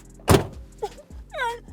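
A rear door of a 1988 Chevrolet Caprice 9C1 police car shuts with one firm, close thud, then brief squeaky rattling sounds follow.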